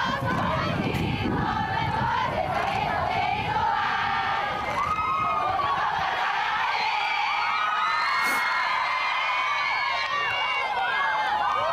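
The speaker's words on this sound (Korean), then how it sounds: "추위 속에서 기다렸던 팬들은 지섭 제일 좋아를 외치며" A dense, continuous roar of fans cheering, shouting and calling out in the cold as actor So Ji Sub leaves to join the military in 2005, with voices overlapping throughout.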